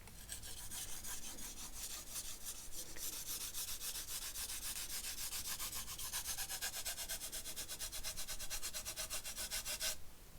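A blade scrapes back and forth across sandpaper in quick, even, close strokes, a dry rasping rhythm that runs steadily throughout.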